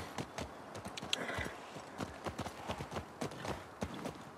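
Rapid, rhythmic clip-clop of horse hooves galloping, a steady drumming of thuds at close range with no voices, in the video game The Last of Us Part II.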